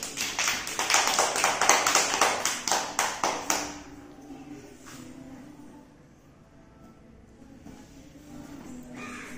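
A first-grade classroom of children clapping in unison, a rapid run of sharp claps for a few seconds that stops abruptly, followed by quieter room noise with faint distant sounds.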